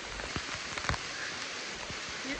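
Tropical wet-season rain falls steadily by a creek, a dense even hiss with scattered soft drop patters close by and no voices.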